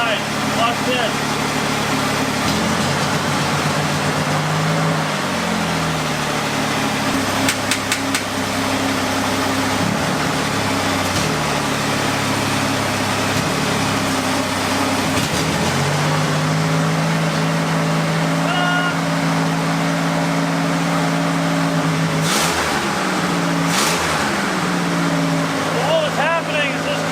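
A barn find Corvair engine runs at roughly 1,000 RPM, its steady mid-pitched idle close and loud throughout, with the revs dipping and rising several times while people talk over it.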